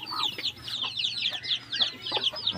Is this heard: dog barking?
no